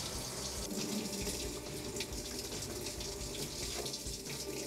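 Water rushes into a Samsung washer through both inlet valves in diagnostic mode, a continuous faint hissing flow with a low hum under it, steady throughout with no speech.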